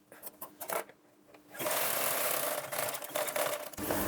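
A sewing machine runs steadily while stitching a blouse, with a hesitant burst of start-stop stitching first, then a loud continuous mechanical whir close by, briefly pausing near the end.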